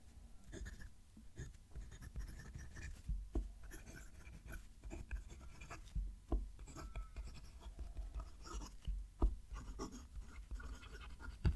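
Steady scratchy rustle of a Wingsung 630 fountain pen nib dragging across paper, close up, with small clicks and taps throughout and no voices.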